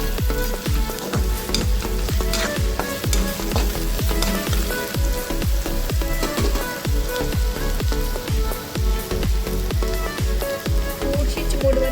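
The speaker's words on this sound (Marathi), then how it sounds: "वाटणाला तेल सुटून तर आपल्याला असं हलवून घ्यायचं" Ground masala paste sizzles loudly in oil as it is stirred. Rhythmic scraping strokes repeat steadily over a dense, close frying crackle.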